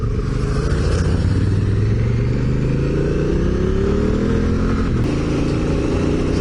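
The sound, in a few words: motorcycle riding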